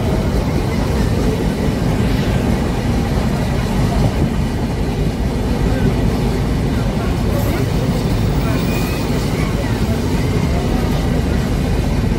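The Jahanabad Express runs on the Dhaka–Padma Bridge rail route, passing a level crossing near an underpass under construction, with a loud, continuous rumble and steady clickety-clack of the wheels close by.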